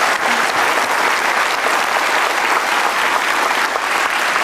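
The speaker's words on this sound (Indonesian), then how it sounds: "Luar biasa, perlu tepuk tangan." Continuous, loud applause from a television studio audience at a talk show tribute, dense clapping with no talk, holding steady throughout.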